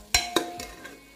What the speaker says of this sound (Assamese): আকো 2 মিনিট মান আমি ভাজি লম